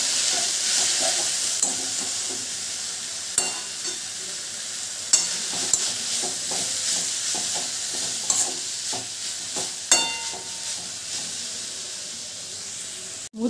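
A tamarind-leaf chutney mixture with chopped pieces and turmeric is stirred as it sizzles in a pan, with a steady frying hiss broken by repeated scraping strokes of the spoon, close up and with no talking.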